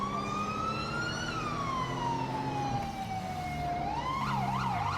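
A police car siren in GTA V with the LSPDFR mod wails in a smooth rising and falling tone, then shifts to a faster yelping pattern near the end, steady and unaccompanied by talk.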